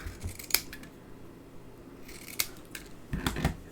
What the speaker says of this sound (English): if I cut that down a little bit, just into a narrow